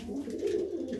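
White homer pigeons give a soft, brief coo, faint and close with no talk.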